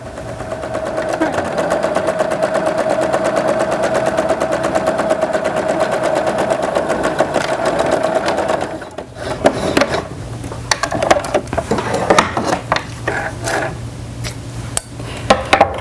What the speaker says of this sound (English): That should allow these to line up perfectly when we stitch them together.